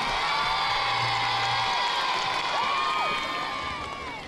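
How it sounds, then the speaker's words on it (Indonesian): A large audience at an evening Islamic boarding school celebration claps and cheers, with whoops and children's shouts over dense applause that fades slightly toward the end. "tepuk tangan buat Pondok Pesantren Darul Amanah."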